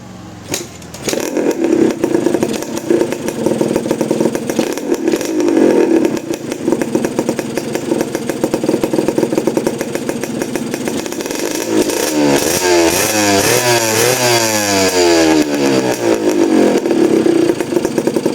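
A vintage Yamaha DT125 single-cylinder motorcycle engine running nearby, a loud buzzy two-stroke idle with rising and falling revs and a rapid throttle blip sequence toward the end, no talk.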